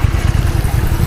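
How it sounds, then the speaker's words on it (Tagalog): A motorcycle engine on a road in Korea, a loud close low pulsing throb with rapid regular firing beats over about a second, alone without talk. "May nakamotor oh, ganda ng motor."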